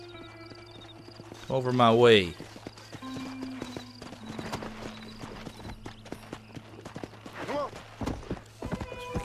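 Horse hooves clip-clop at a steady walking pace in the Red Dead Redemption video game, with a horse whinnying loudly early on and someone talking over the rhythmic hoofbeats.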